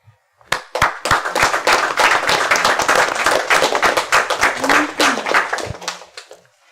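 Audience in a city council meeting breaks into sustained applause, many hands clapping densely for about six seconds, loud and close, with a faint voice briefly audible near the end.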